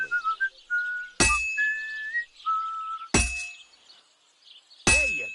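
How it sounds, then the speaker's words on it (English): A blacksmith hammering a sword blade in Kingdom Come Deliverance 2: three sharp, bright metallic clangs ring out at steady intervals, with a person whistling a tune between the strikes. "When I hammer a piece to a beat, the work goes by easier"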